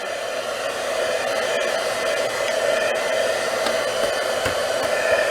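A hair dryer blows steadily up close, drying a polished stone craft piece with an unbroken whirring hum that barely changes throughout.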